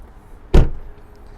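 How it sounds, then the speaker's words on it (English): A single short latch pop and thump as the trunk of an Audi S5 Sportback releases, close and fairly loud against a quiet background, with no voices. "You can also open the trunk from here,"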